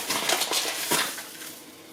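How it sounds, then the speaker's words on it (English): Apples stirred with melted butter and sugar in a heavy-bottomed pan over low heat, close scraping and clinking of the utensil against the pan with a soft sizzle underneath, fading toward the end. "stir those together and let them cook gently for about 5 minutes until they start to soften"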